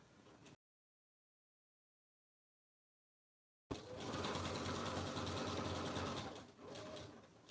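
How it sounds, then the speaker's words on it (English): A sewing machine fitted with a walking foot stitches through layered oven mitt fabric, running in one steady, fairly loud mechanical whir for several seconds after a silent gap, with a brief dip near the end. "It's a little bit more noisy because the walking foot kind of makes a little bit more noisy"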